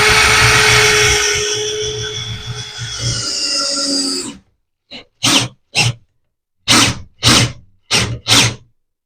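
A drill fitted with a socket adapter drives Tapcon concrete screws while a wood rack is installed: a long steady whir, then several short loud bursts of the drill spinning up and stopping, close by.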